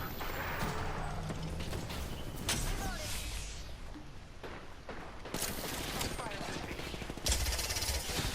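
Gunfire in the shooter Apex Legends during a ranked match, dense overlapping shots and bursts blended with busy game noise throughout, fairly faint and continuous.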